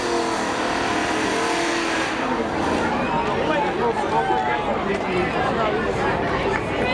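A Pontiac Trans Am and a Subaru Outback drag race at Seekonk Speedway spectator drags, a steady wash of engine roar under an announcer talking and crowd chatter throughout.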